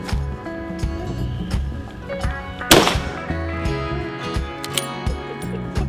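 A single sharp rifle shot, fired through a muzzle brake, bursts out near the middle of the clip over steady background music.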